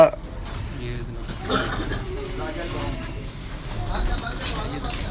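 Cooing from a pigeon loft hums along beneath continuous close speech, soft and blended into background noise throughout.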